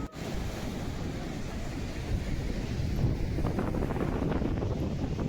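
Sea waves surge onto a beach with rocks, a continuous rushing wash of surf with steady roar and wind buffeting the microphone, building slightly louder toward the end.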